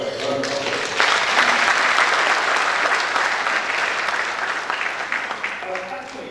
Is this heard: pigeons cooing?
no